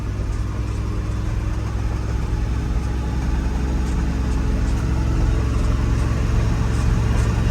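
An International Harvester 1800 Loadstar truck engine, freshly fitted with a new fuel pump, rebuilt carburetor, cap, rotor, plugs and wires, idles smoothly and steadily close by, a constant low rumble with no voices.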